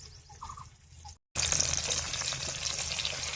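Ginger, green chili and garlic paste goes into softened tomato in a pan for a soybean curry, a quiet sizzle breaking off briefly before a loud, steady frying hiss takes over, close up.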